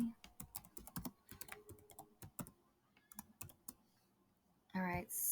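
Rapid bursts of clicky keystrokes on a computer keyboard, uneven and close, in short runs with brief pauses, ending with a voice at the close.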